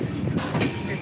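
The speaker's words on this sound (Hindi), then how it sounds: "अरे यार काफी लंबा ट्रेन" A long train passes close by, a steady rumbling roar of rail cars with faint clattering throughout, loud and unbroken for the whole moment.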